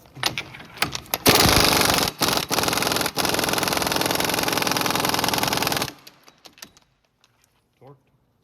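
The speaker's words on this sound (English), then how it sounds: "the wheel nuts are going to get torqued down to 100 foot-pounds" A power impact tool torques bolts and wheel nuts on a 1996–2007 Dodge Grand Caravan 3.3L during front axle replacement, with a loud, rapid hammering burst lasting several seconds after short taps, then quiet with a brief voice at the end.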